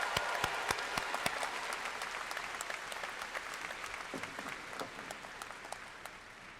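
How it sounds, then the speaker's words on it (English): Sustained audience applause at a spring university commencement ceremony, steady dense clapping from a large crowd that carries evenly through the whole stretch with a few sharper claps near the front. "Please recognize her and the excellence she represents with your applause."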